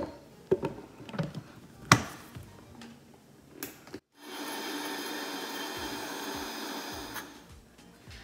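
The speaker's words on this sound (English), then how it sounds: "I'm going to grind this dal into a fine paste" Soaked moong dal is ground into a fine paste in an electric grinder. A few light taps and knocks come first, then a steady loud whirring drone starts and runs to the end.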